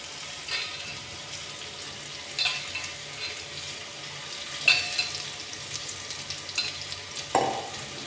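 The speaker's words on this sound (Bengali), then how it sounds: "দিয়ে একটু সামান্য নেড়ে নেবো, ভাজা ভাজা করে নেবো।" Beetroot and potato with green chillies sizzle steadily in a frying pan, with a few distinct scraping stirs and clatters of the spatula over the hiss; no one speaks.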